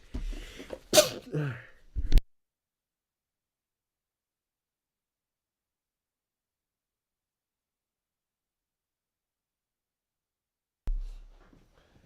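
A single sharp sneeze bursts out near the mic, then near silence follows with only a brief low thump at the end.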